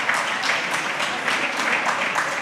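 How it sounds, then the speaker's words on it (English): An audience gives sustained applause as panelists come onto a stage, with dense, even clapping that swells in gentle waves throughout. "Let's show them a lot of love with a big round of applause right now as they come to the stage"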